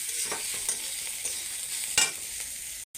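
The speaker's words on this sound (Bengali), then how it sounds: "তো এবার এখানে ভাজমু।" Chili powder and cumin-coriander powder with turmeric frying in a pan, a steady close hiss broken by a few soft scrapes of stirring, with no voices.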